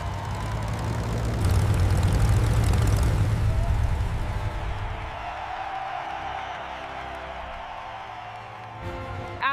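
A restored propeller airplane drones loudly overhead in flight, its engine roar swelling over the first few seconds and then easing to a steady, fading hum, with faint crowd noise underneath.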